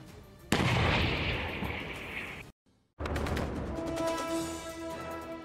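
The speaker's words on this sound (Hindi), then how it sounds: "कुछ ही मिनटों में यूक्रेन के सैनिकों ने होवित्जर से कई गोले दाग दिए" Ukrainian soldiers fire a howitzer at Russian forces, one heavy boom followed by a long roaring decay, then, after a sudden cut, another blast rumbling out with ringing tones.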